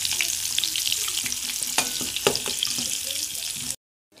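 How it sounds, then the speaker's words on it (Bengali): Cauliflower sizzles and crackles in hot oil in a wok, a busy close-up frying hiss with scattered pops and stirring clinks, then it cuts off abruptly near the end. "এবার দেখো কড়ার মধ্যে ফুলকপি দিয়েছি"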